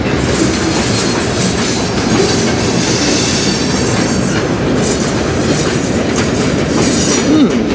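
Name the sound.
freight train passing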